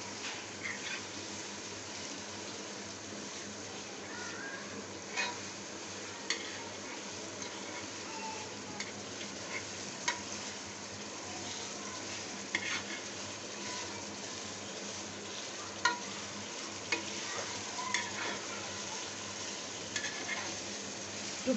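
Food is sautéed and stirred in a pan for a long stretch: a steady, moderately quiet sizzle with scattered light scrapes and clinks from the spoon.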